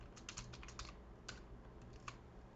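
Fingers type on a computer keyboard, a quiet run of quick, irregular key clicks in a short burst with brief gaps and no talking.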